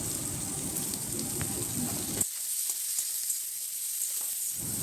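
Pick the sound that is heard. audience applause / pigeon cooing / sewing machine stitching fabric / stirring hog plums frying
stirring hog plums frying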